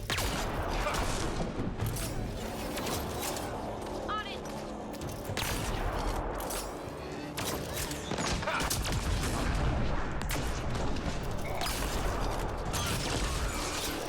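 Turret gunfire in the video game Mass Effect: Andromeda, a steady run of sharp shots and mechanical clatter lasting throughout, with some speech faintly underneath.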